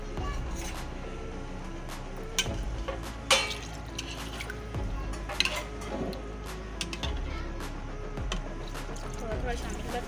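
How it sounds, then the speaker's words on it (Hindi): A flour and water mixture being stirred in a pot over a medium-low flame while cooking beef nihari, with soft scraping and occasional clinks of a spoon against metal, quiet and intermittent throughout. "फ्लेम मीडियम टू लो रख के ये ज़रा शामिल करती रहूँगी मैं आटे को और हिलाती रहूँगी इसे"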